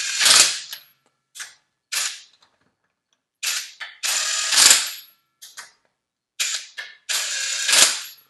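Prostormer 20V cordless brushless impact wrench snugging lug nuts slowly: short bursts of rattling hammering separated by silent pauses, close and loud, with no talk.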